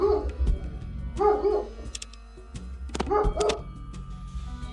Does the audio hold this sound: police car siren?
no